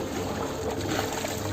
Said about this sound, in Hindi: नल घर में पानी डालने की आवाज